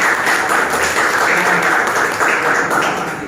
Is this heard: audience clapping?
yes